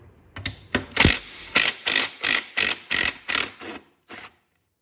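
Bolts being backed out of a push mower engine with a ratchet, a quick series of about ten close, sharp clicking ratchet strokes in a steady rhythm, ending with a short final burst, no talking.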